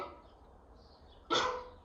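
A single dog bark sounds once, fairly close and sharp, after a quiet stretch of room tone in an indoor yoga class.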